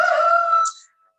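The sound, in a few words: chicken crowing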